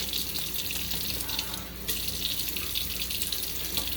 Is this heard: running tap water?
yes